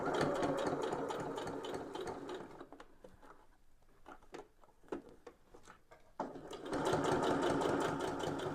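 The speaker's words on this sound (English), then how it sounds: "I go around and I'm going to sew the edge" A sewing machine stitching around the edge of a fabric drink cover, a steady fast mechanical whir that slows into scattered ticks and clicks midway, then resumes at full speed, fairly close and alone.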